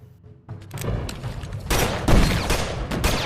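Film-scene gunfire erupts in a rapid volley of loud, overlapping shots and booms that build in intensity after a quieter opening.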